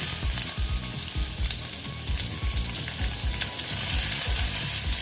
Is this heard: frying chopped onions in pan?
yes